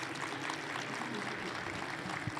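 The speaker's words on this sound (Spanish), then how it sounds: "Un aplauso, por favor, muy fuerte." Audience applause at an education academy event, a continuous, faint wash of clapping from a crowd, heard at a distance through a hall with low background murmur.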